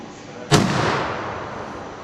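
A single sharp rifle shot rings out while hunting roe buck outdoors, a loud crack followed by a long rolling echo that fades over about a second and a half.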